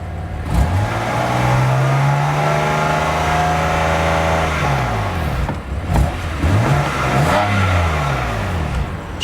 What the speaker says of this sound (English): Give it a little subtle rev.